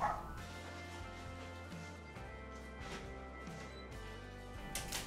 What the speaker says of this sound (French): les chiens jappent juste parce que j'ai ouvert la porte.